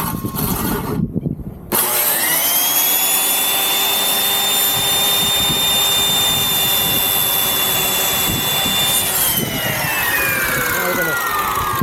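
A power saw spins up and cuts through a 2x4 with a loud, steady, high whine that holds for several seconds before slowing near the end.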